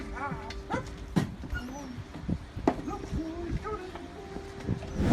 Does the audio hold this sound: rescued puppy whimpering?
yes